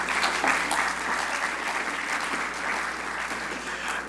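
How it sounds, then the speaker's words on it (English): Steady applause from a crowd at a sustainable energy forum in Barbados, sustained clapping at an even level throughout with no pause. "can we give them another round of applause, please?"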